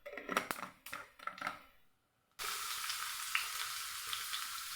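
Fennel seeds dropped into hot oil crackle and sizzle steadily after a few earlier sharp taps and scrapes in the kitchen, the frying noise starting abruptly and continuing loud and even.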